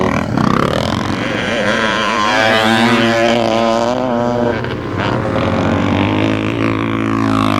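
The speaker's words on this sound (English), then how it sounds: "Derek has shifted the Bultaco into top gear and overtaken" A Bultaco Pursang 360 twinshock dirt bike races in a scramble, its engine howling loud and close with rising and falling pitch as it revs through the gears, steady and unbroken.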